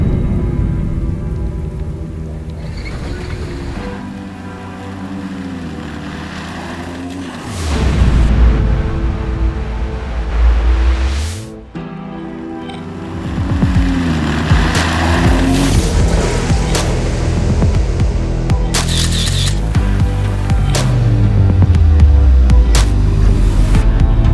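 Ford Bronco charging through a puddle at speed: a heavy rushing wash of spraying water and engine rumble that surges, drops off briefly, then roars back louder as the truck keeps plowing through.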